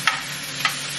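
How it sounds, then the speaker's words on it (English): Sofrito and food get stirred around in a pan, a steady soft sizzle with two quick scraping strokes of a utensil, close and fairly quiet. "And then you just want to mix it all around."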